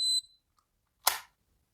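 A Katalyzer vaporizer emits a short electronic beep, followed after a pause by a brief noisy burst, close and otherwise quiet.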